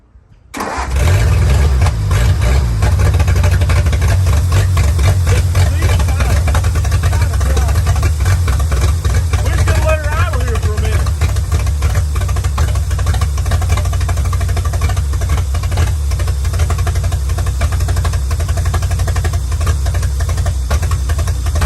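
The engine of an old scrap car cranks briefly and then catches, settling into a loud, steady, slightly rough idle that runs on without a break, recorded up close. A voice is heard at times over the engine.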